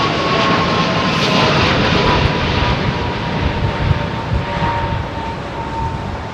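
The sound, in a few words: jet airliner climbing after departure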